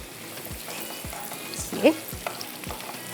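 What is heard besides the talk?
tarka sizzling for daal with green chillies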